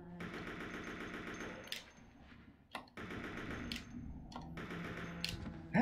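Rapid automatic gunfire in the video game Resident Evil Code Veronica X, dense bursts of shots with brief pauses between volleys and sharp single impacts, loud and steady throughout, no talking.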